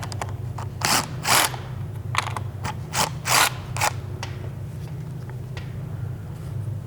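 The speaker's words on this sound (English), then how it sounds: "And then you'll need a 10mm socket to remove the 2 nuts here." A 10mm socket ratchet loosening nuts on a Ford Bronco roof, with a steady clicking ratchet rhythm punctuated by a few louder bursts of cranking, close and continuous.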